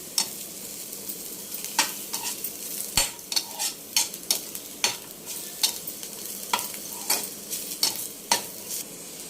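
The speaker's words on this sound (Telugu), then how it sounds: "ఫ్రై చేసుకోవాలి ఆయిల్లో చింతపండు నల్లేరు ముక్కలు ఎల్లుల్లిపాయ రొబ్బలు మగ్గించుకొని" Tamarind, nalleru stalk pieces and garlic cloves fry in oil with a steady background sizzle, broken by frequent sharp scrapes and clinks of a spoon stirring against the pan.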